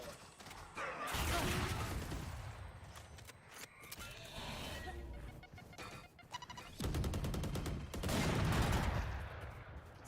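Rapid gunfire bursts from a Valorant esports match, loud and dense, coming in two heavy stretches with a quieter spell of scattered shots between them.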